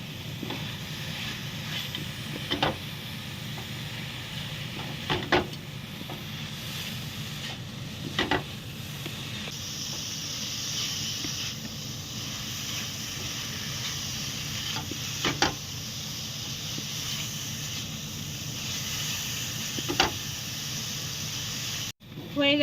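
Butterscotch being stirred into chhana in a pan for butterscotch sandesh, a steady soft scraping and faint sizzle running throughout, with a few sharper spoon clicks against the pan.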